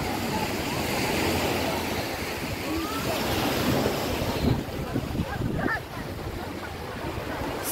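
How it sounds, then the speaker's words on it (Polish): Big sea waves break on a beach at Sharm el Sheikh, Egypt, in a steady, loud roar of surf mixed with gusty wind buffeting the microphone for the whole stretch. "Ale dzisiaj są duże fale."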